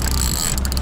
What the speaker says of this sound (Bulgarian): Май скърта аванса.